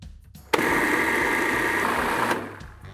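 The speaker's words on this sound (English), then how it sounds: "pureeing some fresh strawberries in a food processor" Fresh strawberries are pureed in a food processor, which gives one loud, steady motor whir that starts abruptly, holds for about two seconds, then winds down.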